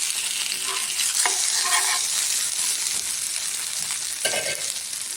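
Rava dosa frying in oil on a hot pan, a steady close sizzle with a few brief scraping stirs of a spatula, no talking.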